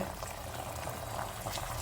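Sugar browns in about a cup of hot oil for halva, giving a steady, close, bubbling sizzle with no talk.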